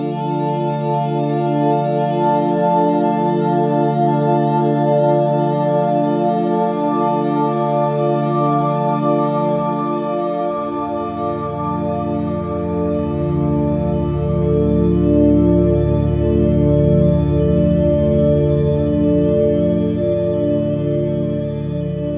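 Ambient moving pad from a Reason synth, a sustained droning tone with oscillator 3 pitch-modulated by a stepped waveform and routed through a high-pass filter, steady and loud, deepening with a low bass swell midway, no voices.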